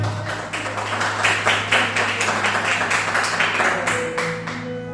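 Congregation at a church service clapping together, a steady run of claps with a low hum and some tapping underneath, sustained for several seconds before easing off.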